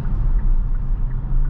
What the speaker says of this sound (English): the cabin noise is actually not too bad.